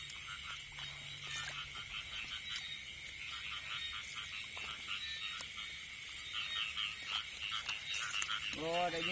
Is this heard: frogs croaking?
yes